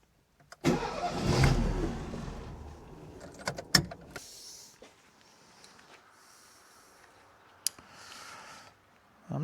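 Car engine with a makeshift emergency fan belt cranking and catching, a loud burst of starting noise followed by a few sharp clanks and knocks, then quieter idling with intermittent clicks; no one speaks.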